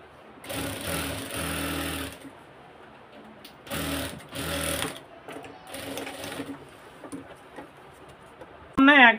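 A sewing machine stitches fabric in three separate bursts of fast mechanical chatter, with quiet pauses between runs and a brief sharp noise at the end.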